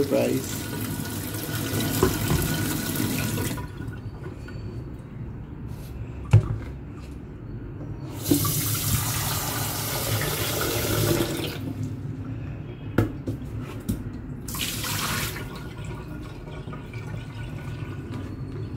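Water gushes from a tap in several bursts, starting and stopping, with quieter stretches and occasional clunks between.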